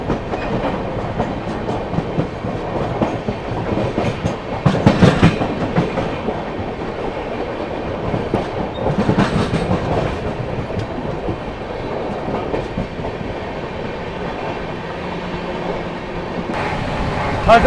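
Vande Bharat Express (Hazrat Nizamuddin–Rani Kamlapati) crossing near Lalitpur Junction, heard from aboard the Telangana Express: a steady rumble of rolling wagons with clickety-clack, rising in a couple of louder passing bursts.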